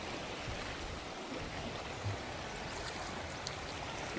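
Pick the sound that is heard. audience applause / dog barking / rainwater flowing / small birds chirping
rainwater flowing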